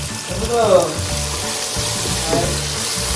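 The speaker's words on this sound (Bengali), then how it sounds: "আলুটাকে একটুখানি মশলার সাথে আর কি কষিয়ে নিলাম।" Potatoes sauté in a pan with spices and ground dried roasted chili, a steady, close sizzling with brief stirring swells.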